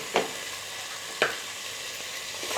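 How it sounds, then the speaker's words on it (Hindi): Chicken frying in a teaspoon of oil in a pan, a constant sizzle broken by two sharp scraping stirs about a second apart, moderately loud and close, no talking. "मैंने इसमें 1 टीस्पून पैन में ऑयल डाला है। अब हम इसमें चिकन डालेंगे।"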